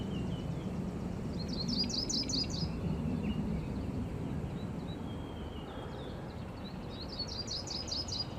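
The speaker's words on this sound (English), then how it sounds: "The yellow-rumped warbler is the most common warbler of all" A yellow-rumped warbler sings in a spring coniferous forest, short high trilling phrases repeated twice with a pause between, fairly distant over a steady low wash of background ambience.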